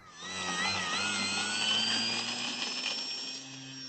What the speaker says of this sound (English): let's go outside and get this lovely Gloster Gladiator flying.